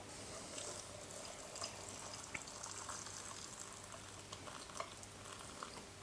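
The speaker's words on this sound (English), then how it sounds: "you just simply pour that onto your sprouts that have been nicely packed in the jar" Salt and sugar brine pours from a container onto sprouts packed in a glass jar, giving a steady close liquid splash and patter with small clinks, heard alone without talk.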